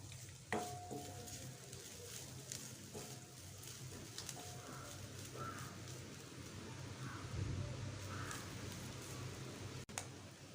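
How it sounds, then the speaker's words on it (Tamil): Grated coconut fries in a pan until golden, giving a faint, steady sizzle under a few soft stirring scrapes in a quiet kitchen. "தேங்காய் நல்லா பொன்னிறமாக வர்ற வரைக்கும் நம்ம வறுக்கணும்."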